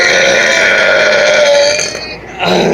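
A single long, loud, close burp rumbles on for about two seconds with a droning, voiced rasp, then trails off into a short breathy tail.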